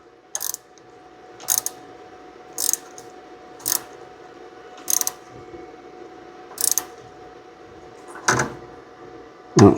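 A wrench clicks while tightening a 3/16 double flare brake line union on a 2000 Nissan Frontier, seven or eight short crisp ratcheting bursts spaced about a second apart over a low steady hum, close and fairly quiet.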